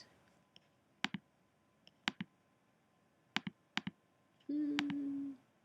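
Several sharp computer mouse clicks land in quick pairs and singles, close and fairly quiet, followed by a brief steady hum near the end.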